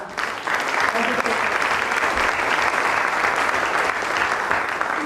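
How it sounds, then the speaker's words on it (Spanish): Audience applause for the panelists at a nature rights roundtable symposium, loud, dense clapping from a crowd starting just after the opening and holding steady to the end. "Un gran aplauso, por favor, para este panel."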